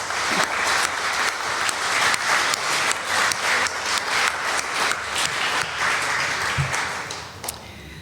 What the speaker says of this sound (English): So let's give our applause to Barb, Diane, Marcus, Kai, Jeannie, Anne,